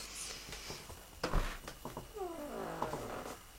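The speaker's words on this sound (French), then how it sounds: "j'ai mon chat qui miaule" A house cat makes a few short vocal sounds indoors, nearby and fairly quiet, with rising and falling meow-like calls toward the end.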